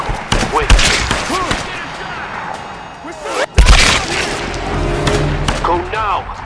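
Video game gunfire in Tomb Raider Definitive Edition: loud bursts of rapid shots and heavy booms in a chaotic firefight, punctuated by a sharp blast midway, with shouting voices over the shooting.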